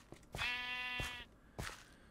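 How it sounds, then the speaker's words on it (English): A Minecraft sheep lets out one clear, nasal bleat lasting under a second, with short game clicks and thumps before and after it and no voices. "Not going to get me, look out for that sheep."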